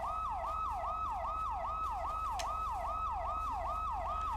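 A police car siren in GTA 5 with the LSPDFR mod, playing as a fast, regular yelp that repeats about three times per second, loud and steady throughout with no talking.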